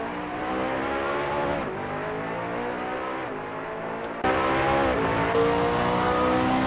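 BMW GT2 race car engines in a racing video game run near and loud at sustained high revs through Spa's Eau Rouge and Raidillon complex, with gear changes shifting the pitch and a sharp jump in volume partway through.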